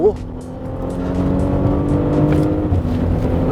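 A 2021 Porsche Cayenne E-Hybrid powers out of the tightest corner on a race track in second gear, its engine note rising steadily and loudly as it accelerates, with a voice briefly exclaiming over it.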